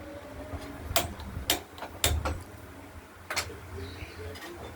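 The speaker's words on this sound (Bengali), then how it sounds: "ওভেনটা জ্বালিয়ে দিয়েছি।" Gas stove being lit in a home kitchen before cooking rohu fish curry, a series of sharp clicks from the igniter, about five spaced ticks, close and fairly loud over a quiet room hum.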